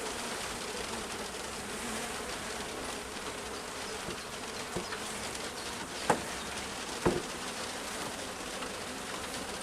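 Dense, steady swarm buzz of honeybees around an open beehive being inspected in warm, stormy weather, continuous and close, with a few brief knocks or clicks near the end and no talking.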